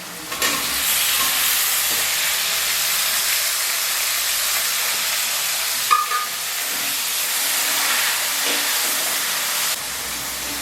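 Onion, tomato and green chillies sizzle steadily in hot oil for eggplant tamarind curry, a constant close hiss with occasional stirring scrapes.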